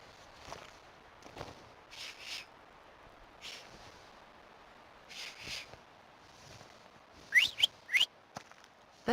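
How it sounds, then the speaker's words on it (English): Whistling in the video game The Thaumaturge, a few quick, bright whistled notes near the end over a quiet backdrop with soft footsteps and small knocks. "have you mastered whistling?"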